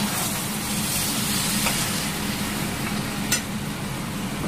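Chicken chaap masala frying in a pan with black pepper powder just added, a steady close sizzle with low scraping from stirring running throughout, one brief sharper clink near the end.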